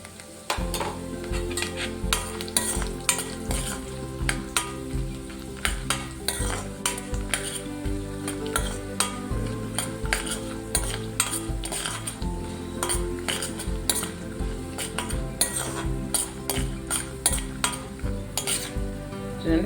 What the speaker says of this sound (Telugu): చూడండి, పల్లీలు మంచిగా ఫ్రై అయినాయండి.